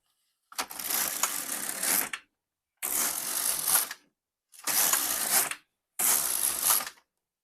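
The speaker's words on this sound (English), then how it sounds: "Now I can knit my rows needed for each increase." An LK150 mid gauge knitting machine knits rows, its carriage swept across the needle bed in four separate broadband whooshing, clattering passes of about one to one and a half seconds each, with short silent gaps between them, close and clear.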